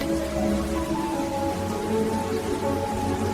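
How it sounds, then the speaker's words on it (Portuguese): Steady rain patters on a surface at night, an even, continuous hiss with no voices. "Ainda tá chovendo. Melhor som pra dormir."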